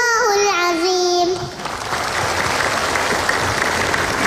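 Applause from a studio audience for a young girl who has just finished a Quran recitation, breaking out after a sustained chanted voice fades and continuing as loud, dense clapping to the end.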